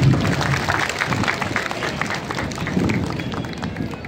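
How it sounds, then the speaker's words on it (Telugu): An audience at a public talk applauding, dense sustained clapping from a crowd that fills the room loudly and evenly for several seconds. "మళ్ళీ మీకు మీరే చప్పట్లు కొట్టుకోండి"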